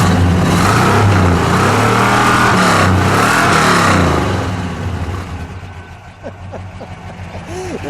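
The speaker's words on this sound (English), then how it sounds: "One more rev and we'll call it a day." A 1964 Chrysler 300K V8 revs loudly and close by, its deep harmonic roar climbing and falling through several blips before easing back toward a lower, steadier rumble.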